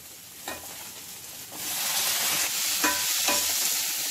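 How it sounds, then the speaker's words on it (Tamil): Minced keema being sautéed in a pan for samosa filling, a steady close sizzle with a few sharp scraping stirs, growing slightly louder midway; no talking. "எல்லாம் கொஞ்சம் எல்லாம் ஒன்றா சேர்ந்து கொஞ்சம் வதங்கட்டும்"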